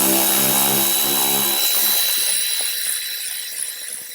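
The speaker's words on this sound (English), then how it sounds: "we're using our Milwaukee fuel ratchet" A Milwaukee Fuel power ratchet spins out tight, factory-Loctited E12 seat bolts in a 2018-up Jeep Wrangler JL, a loud buzzing motor whir that fades into light metallic rattling and clicks.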